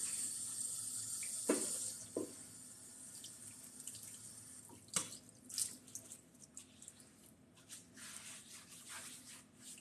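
Running tap water spatters into a kitchen sink as an onion is rinsed, a fairly distant steady wash with a few louder splashes and clunks, no talking.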